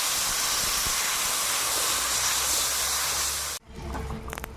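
Water hits a hot pan of fried potatoes with turmeric, chili powder and salt, setting off a loud, steady hiss of steam that drops away abruptly, leaving faint bubbling and light clatter.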